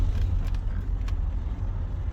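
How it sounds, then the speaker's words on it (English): A Renault Megane with a 1.5 turbo diesel engine runs with a low, steady rumble heard from inside the car, echoing off surrounding walls, with faint mechanical ticks. "you can really hear the engine going"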